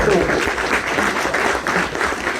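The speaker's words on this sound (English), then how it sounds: "round of applause" An audience at a film music Q&A applauds loudly and steadily throughout, a close, dense wash of clapping, with a voice faintly underneath.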